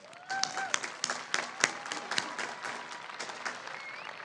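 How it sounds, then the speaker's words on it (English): Applause at a high school graduation ceremony, a scattered crowd clapping with sharp individual claps standing out over a softer wash, moderately distant and fading slightly toward the end. "Students, let's give your families and friends a round of applause."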